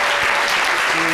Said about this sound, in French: Merci de continuer de les applaudir.